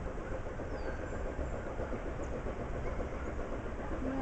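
A train passes at a railroad train festival in Owosso, Michigan: a steady, dense rumble, a continuous rolling roar with faint rhythmic clatter, close and fairly loud throughout.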